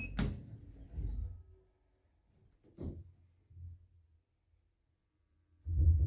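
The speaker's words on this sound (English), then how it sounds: "Doors closing." Heavy lift doors slide and thud shut nearby at Richmond Town Centre, London, followed by a few short mechanical clunks and a low hum in a quiet space.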